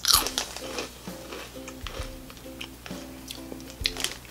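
Close, crisp crunching as someone bites and chews small drizzled snack crisps shaped like mini cinnamon buns, a series of sharp crackling bites in an uneven rhythm with no talking.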